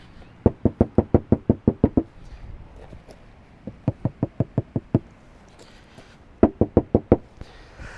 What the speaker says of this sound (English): I'm going to knock on this panel, which isn't soundproof, and you'll be able to hear the difference.